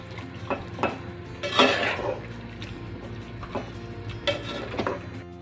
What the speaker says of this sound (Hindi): सारा दही डाल दूँगी और इसको अच्छे से मिक्स करूँगी।